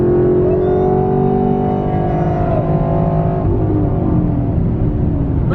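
A 2017 Camaro SS with Kooks headers revs loudly and close, with a deep engine note that climbs and falls through a sustained pull with no talk.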